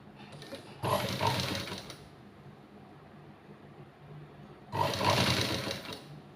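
A sewing machine stitches a folded blouse hook patti strip in two short, loud, whirring bursts separated by a quiet pause.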